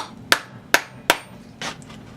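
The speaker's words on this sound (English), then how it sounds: "Take a hammer." A hammer strikes a leather punch three times at an even pace, sharp ringing taps close by on a workbench, followed by a softer scraping knock.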